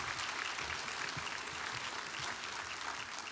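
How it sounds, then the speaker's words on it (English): A commencement crowd at Holy Family University gives a round of applause for the university president, a distant, even roar of many clapping hands sustained without a break. "So let's give her a round of applause."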